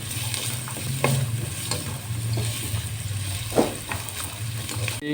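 Carrot cubes frying in a pan, with a continuous close sizzle and intermittent spatula scrapes and stirring clicks at an even, moderate level.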